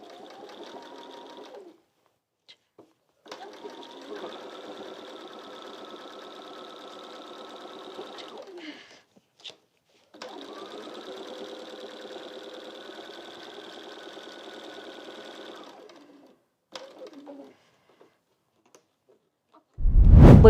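A sewing machine stitches quilt blocks together in two long steady runs of fast mechanical whirring, close and clear, separated by quiet pauses with brief clicks and a short burst of reverse stitching.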